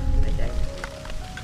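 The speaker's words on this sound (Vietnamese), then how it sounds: "Hồi nãy giờ ông trời ông mưa đi mưa lại" Steady rain falls outdoors in an open field, a continuous patter and hiss that stays even throughout.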